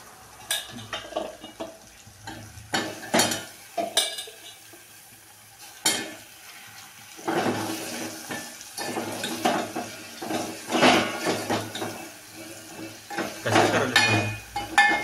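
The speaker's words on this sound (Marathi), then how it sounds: "मग ह्या कट करून घेतलेल्या शेंगा आहेत ना, ह्या याच्यामध्ये टाकायच्या" Cut drumstick pods go into a simmering curry pot, bringing a run of clinks, clatters and stirring scrapes of a spoon against metal, with bursts of sizzling and bubbling between quieter pauses.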